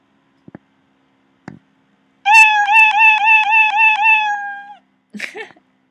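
Cartoon cat meow sound effect from a Scratch program: one clear, drawn-out harmonic meow with a warbling pulse, loud and alone, with a few soft clicks before it and a brief scuffle after.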